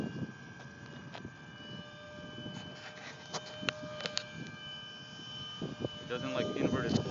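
An F-15 comes in to land at an airfield, its engine a distant steady whine and rumble, with a voice talking over it throughout.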